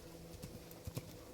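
A stallion's hooves striking the ground at liberty, a few soft, distant thuds with two sharper hits near the end over faint background noise.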